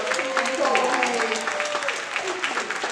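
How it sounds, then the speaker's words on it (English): An expo audience applauds in a moderate, steady round of clapping while voices speak and cheer over it, close and busy for a few seconds. "Can we give Pinky a big round of applause?"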